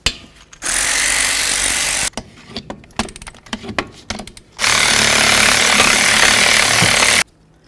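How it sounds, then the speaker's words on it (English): Two loud bursts of an impact tool removing the brake caliper slider bolts on a 2006–2012 Ford Fusion during a front brake job, each lasting about two seconds, separated by quieter clanks and rattles of handling. "Go ahead and remove your 2 caliper slider bolts."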